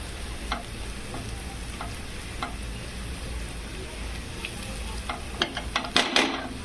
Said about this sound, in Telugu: ఇది కూడా కొంచెం నూనె మధ్యలో వేస్తే కొంచెం బాగా వేగుతుందండి పసుపు